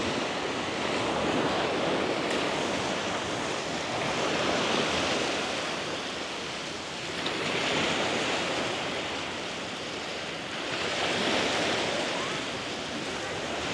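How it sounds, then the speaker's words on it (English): Steady roar of ocean surf washing onto a beach at Hua Hin, Thailand, with waves swelling and breaking in slow, broad surges and some wind rumble underneath. "It'd be nice to sleep right next to this, just hearing the waves."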